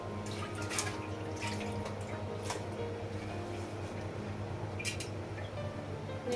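Water trickles and drips quietly while raw mutton is washed for biryani, a soft, continuous splashing over a steady low hum with no talking.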